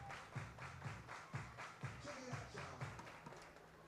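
Spectators at a baseball game clapping their hands together in a steady rhythmic beat, about two claps per second, fairly faint and distant, with light crowd murmur underneath.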